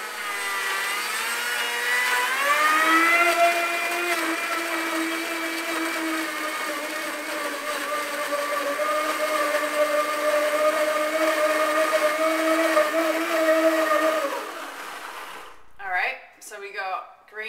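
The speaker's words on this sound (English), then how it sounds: "And they're going into the blend tech with a 4-inch blade. And I'm gonna blend those up." A Blendtec blender with a 4-inch blade purees green apples. The motor whine climbs in pitch, then holds a loud, steady drone for about fourteen seconds before cutting off, and a voice speaks briefly afterward.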